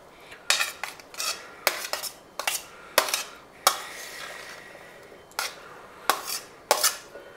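Sprouts salad with lemon and cucumber tossed in a bowl, a spoon knocking the sides in a quick irregular run of bright metallic clinks and scrapes, close-up and unaccompanied by speech.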